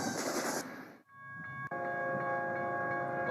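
A 15,000-foot-long intermodal freight train on an American railroad rolls past close by as a loud, steady rumble, briefly dipping before sustained horn-like tones ring out over the continuing roar.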